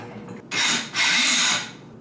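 Power tool cutting out the corners of wood during a kitchen renovation, two loud sustained bursts of buzzing cutting noise separated by a brief pause, standing out clearly against a quiet background.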